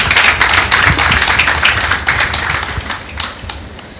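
A hall audience at a magazine-show talk on language learning breaks into loud, dense applause, many hands clapping at once in a continuous patter that holds steady and then thins slightly toward the end, with no talking.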